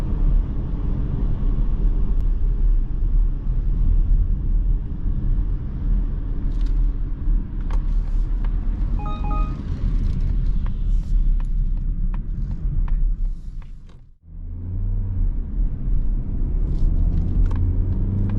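A 2023 Mazda CX-30 accelerates hard from rest through a 0 to 100 km/h run, a steady loud engine and road roar building continuously, with a brief gear-change dip before the drone resumes.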